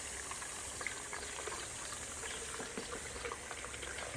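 Water runs and gurgles as a pond sprayer is rinsed out after mixing diquat herbicide, a soft continuous bubbling trickle heard fairly close and quiet, with no talk.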